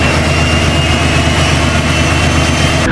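Boeing 747 jumbo jet airliner engines fill the space with a loud, unbroken roar and whine, steady throughout as if heard from inside the cabin.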